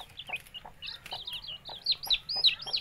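A spooked chick with split legs gives rapid, high chirping clucks, close and clear, rising in pitch and getting busier toward the end over a faint background.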